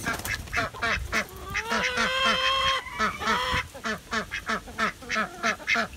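A rapid, rhythmic series of nasal duck quacks repeats close by, with a few higher drawn-out honking calls mixed in midway.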